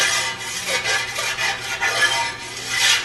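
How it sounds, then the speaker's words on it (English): A rasp files the trailing edge of an aircraft propeller in repeated short rubbing strokes, a close, rhythmic scraping that carries on steadily with no talk. "What type of file is that? That's a rasp."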